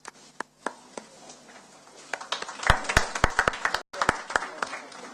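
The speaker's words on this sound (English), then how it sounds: "to welcome the Honorable Minister for Information and Broadcasting, Shri Arun Jaitley, with applause." Scattered claps build into brief applause from a small audience, rising and then breaking off abruptly.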